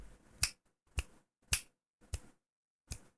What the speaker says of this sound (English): I can't even snap my fingers properly right now.